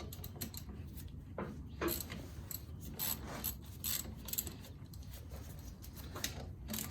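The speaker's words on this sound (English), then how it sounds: "Start by loosening the bracket to caliper bolts." A ratchet clicks in rapid bursts while loosening brake caliper bracket bolts on a 2003 Chevy Malibu, crisp close metallic pawl ticks with short pauses, no talking.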